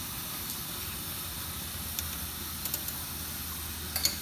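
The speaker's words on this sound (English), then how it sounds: "And it comes to a boil again, you take it off and let it cool down" Turkish coffee boiling in a pot on a Coleman camp stove, a steady low hiss and faint bubbling sizzle, with a few small ticks and clicks near the end.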